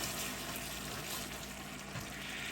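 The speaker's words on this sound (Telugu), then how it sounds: "అవసరమైన వాటర్ పోసుకుంటూ మెల్లిమెల్లిగా" Water poured slowly into hot caramel syrup for an eggless plum cake produces a dense, steady sizzling hiss with bubbling undertones, constant and fairly loud.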